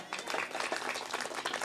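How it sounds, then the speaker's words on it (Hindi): Audience applause for a guest from Mumbai at a church worship gathering, a steady dense wash of many hands clapping together for under two seconds, moderately loud with no voices over it. "आप उनके लिए काफी जोरदार ताली बजाएं"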